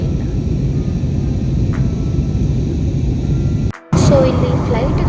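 Inside an airliner cabin on a flight from China to Bengaluru, India, a steady, loud broadband roar of engines and airflow fills the space, briefly cutting out near the end before resuming.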